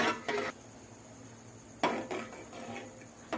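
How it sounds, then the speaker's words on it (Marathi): A spoon scrapes and clinks around a pot of rice-flour dough mixture with ghee, for modak, in a few short, close bursts separated by quiet pauses. "आता हे मिश्रण छान असं ढवळून घ्यायचं."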